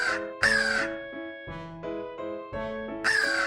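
A crow in an animated story caws repeatedly: loud, harsh, drawn-out calls come in several bursts with short pauses between them, close and clear with no talk over them.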